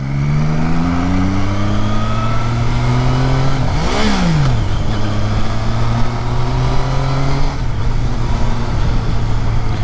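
A Triumph Street Triple R motorcycle engine drones steadily at close range, then blips sharply upward in a quick rev around midway before settling back, followed by a smaller shift in pitch near the end.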